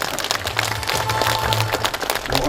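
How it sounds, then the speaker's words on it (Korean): An audience claps for the committee chairman at the completion ceremony of a town administrative and cultural center in Cheongsong, dense crackling applause, loud and close, with a low hum running beneath. "우리 김양태 추진위원장님에게도 큰 박수 한번 부탁드리겠습니다"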